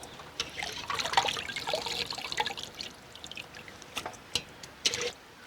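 Water draining off chicken pieces, washed several times, into a vessel in a village kitchen: soft trickles and splashy pours in uneven bursts, close but quiet, ending in a few sharp drips and splashes, with no voices.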